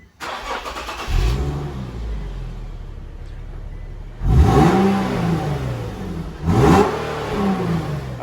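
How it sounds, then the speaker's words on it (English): A 2010 Infiniti G37 with a VQ engine and stock exhaust, revved in several loud bursts that rise and fall, with a steady idle rumble between them. "So this is 40 sounds now."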